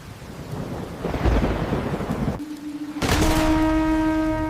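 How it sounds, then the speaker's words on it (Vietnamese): Heavy rain hisses under low rolling thunder in a battle scene set in 1643. A deep rumble swells and fades, then a sustained horn-like tone with strong harmonics rises above the downpour. "Trời còn mưa đến bao giờ?"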